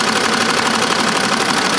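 An embroidery machine stitches a design onto a canvas tote bag in a loud, continuous mechanical whir with a rapid, even stitching pulse throughout.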